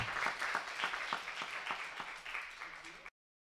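Members of a church congregation clap in welcome for a newcomer during a worship service, a few seconds of moderate, rhythmic applause that stops abruptly.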